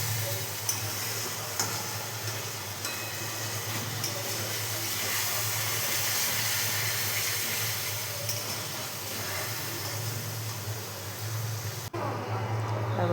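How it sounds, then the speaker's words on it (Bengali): Spices being fried (kasha) in a kadai, giving a steady, close sizzling hiss with faint ticks, continuous throughout and cutting off abruptly near the end. "তখন কষানো চলছে মশলা।"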